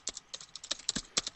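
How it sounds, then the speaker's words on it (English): Quick, irregular clacking of keys on a computer keyboard, close and fairly crisp, with bursts of a dozen or so strokes and no talk over them. "I think I'm interrupting Harry's typing there."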